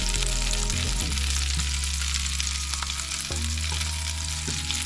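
Butter melting around garlic butter salmon in a pan on low to medium heat, a steady close sizzle with occasional faint crackles over a low electrical hum, no talking.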